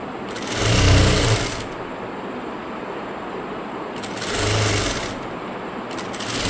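A sewing machine stitches a blouse neckline, running in two distinct bursts of rapid, steady whirring and needle chatter, each lasting over a second, with quiet pauses between them and a brief third start at the end.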